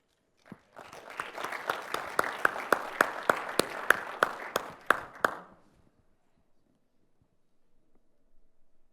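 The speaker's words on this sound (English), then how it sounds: "Clap." An audience at a conference talk breaks into applause, a crisp burst of many hands clapping in a steady rhythm for about five seconds, then stopping abruptly into near silence.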